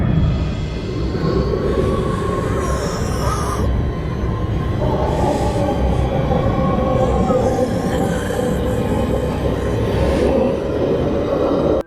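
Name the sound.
train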